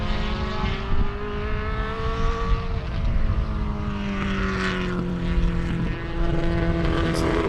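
A small Datsun race car at Sebring roars past, its engine drone loud and continuous, the pitch sliding steadily downward as it goes by, with no voices.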